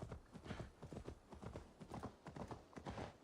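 Horse hooves clip-clop steadily as a rider travels in Assassin's Creed Valhalla, a close, continuous rhythm of hoofbeats lasting the whole moment.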